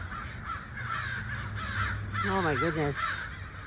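Crows cawing loudly in an outdoor setting around 5 p.m., a flock producing a run of harsh, rising-falling caws near the end over steady background noise, with a person speaking briefly.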